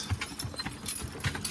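A pair of heavyweight pulling horses, Chester and Marlin, work as a logging team, their hooves clopping irregularly at moderate distance alongside faint jingling of harness.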